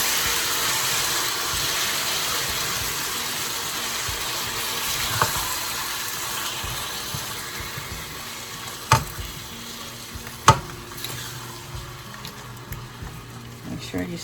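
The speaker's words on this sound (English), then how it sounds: "I'm going to give that a little stir." Chopped pineapple and sausage sizzling in a pan, a steady low frying hiss with a few sharp clacks and scrapes as a utensil stirs the pieces around.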